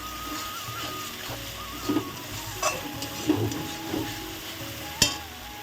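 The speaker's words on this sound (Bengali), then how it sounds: "মশলাটা এখন একটু কষাতে থাকবো।" Masala for a prawn malai curry stirred and fried in a pan, with scattered scrapes of the spatula over a low sizzle, close, and one sharper knock near the end.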